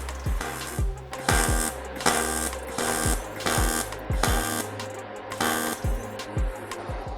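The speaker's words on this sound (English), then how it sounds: "we're going to do this thin aluminum sheet that I have here on the table, and we're going to run it across with the cold TIG" A cold TIG welder pulse-welds a thin aluminum sheet on a table, giving a regular series of crackling, buzzing bursts about every second with short gaps between them, close and loud with no talking.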